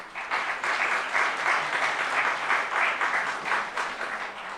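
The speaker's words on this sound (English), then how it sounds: "That is worth clapping about." Audience applause at a city government event launching a career program, a dense, sustained round of clapping that holds steady for several seconds before tapering slightly.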